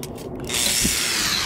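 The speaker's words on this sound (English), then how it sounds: "drill it with a 5/16 drill bit to fit a 5/16 carriage bolt" A power drill with a 5/16 bit bores into thick wood for a DIY poker table base, a steady grinding whir that starts abruptly and holds for about a second, with no talk.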